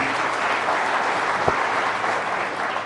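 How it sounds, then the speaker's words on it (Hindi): Loud, dense applause from an audience at the Rising Bharat event for minister Anurag Thakur, a continuous roar of clapping throughout with one sharp thump in the middle. "अनुराग ठाकुर जी के लिए जरा जोरदार तालियां हो जाएं प्लीज।"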